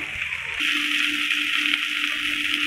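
Sliced onions stirred into okra frying in a pan for a Dogri-style bhindi sabzi, a steady close sizzle that swells as the onions go in, with a faint low hum and no talking.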